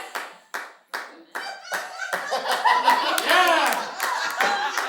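Audience clapping at a live late-night comedy show, a few separate claps at first that build into a dense, steady round of applause with some laughter mixed in.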